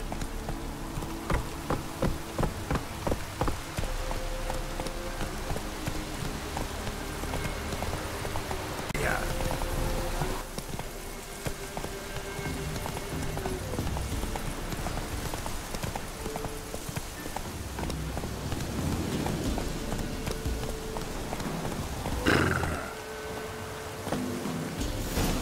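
Hooves of a galloping horse clop rhythmically across the ground through steady rain in Witcher 3: Wild Hunt, continuous and close with insect buzz in the background and brief spoken remarks over it.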